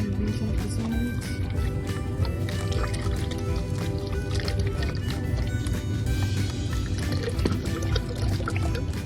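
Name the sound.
beef broth being poured into pot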